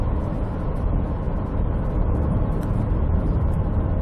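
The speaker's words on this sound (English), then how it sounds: "The car itself is very comfortable to drive." Steady road rumble of a Holden Volt electric car driving, a smooth continuous hum with low engine and tire noise, close and fairly loud, no voices.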